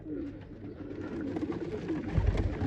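Pigeons of the ambar-sura fancy breed cooing steadily in a loft, a continuous low murmur of several birds close by with no talk.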